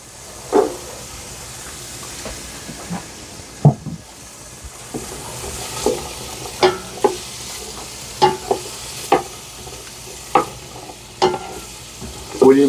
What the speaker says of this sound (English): we're cooking our suffrito in here